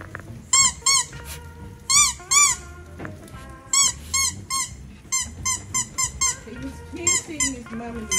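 A small dog repeatedly bites a squeaky toy at home, producing a series of sharp high squeaks in uneven bursts, close by, with a person talking softly and the dog faintly whimpering between squeaks.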